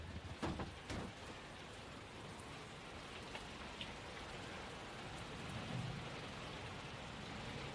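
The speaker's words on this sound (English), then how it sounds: "on a stormy night like this" Steady rain patters over a rumbling low wash, with a couple of sharp bursts near the start and a soft low thunder roll later on.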